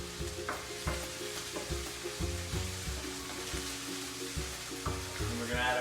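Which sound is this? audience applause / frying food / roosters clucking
frying food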